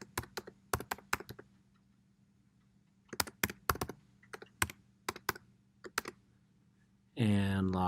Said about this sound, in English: Now we're going to go ahead and type in the password that we created.